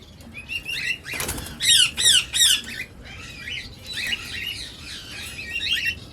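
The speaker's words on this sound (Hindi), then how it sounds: "इसको लाल चोच वाला तोता भी कहा जाता है" A green ringneck parrot, the desi mitthu, lets out repeated harsh squawks in quick bursts, with a flurry of wing flaps early on and more scratchy calls following, close and loud.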